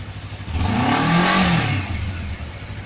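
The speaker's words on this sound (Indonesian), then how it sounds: "Dengerin ya suara knalpotnya." A car exhaust rises and falls through a single rev, a throaty mid-pitched roar swelling for about a second before settling back, close and loud with no talking over it.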